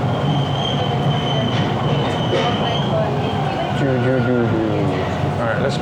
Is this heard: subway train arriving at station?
yes